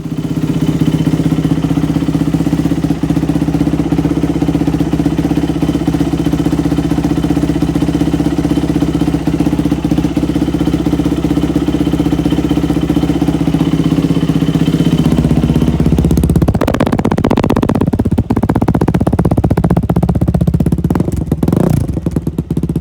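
A street-legal Yamaha YZ426F dirt bike fitted with lights idles loudly and steadily with a deep, even engine drone, then is revved sharply near the end, producing harsher bursts and rattling clatter.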